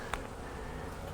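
Honey bees drone around an opened beehive during a nuc split check, a soft steady buzzing hum close by with one brief sharper tick near the start and no speech.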